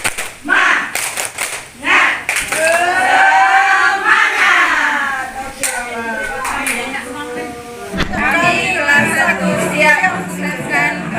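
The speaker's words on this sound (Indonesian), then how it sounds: "tepuk semangat" A group of teachers at a school community gathering doing a spirit clap with their hands together, rhythmic claps and cheering crowd noise mixed with voices throughout.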